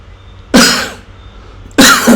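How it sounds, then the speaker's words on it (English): Two loud, harsh coughs close to the microphone, about a second apart, in an otherwise quiet room. "Excuse my cough, it's still there."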